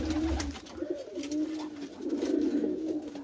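Pigeons cooing at a loft around dusk, a steady low throaty coo repeating through the clip with faint background hum and no talking.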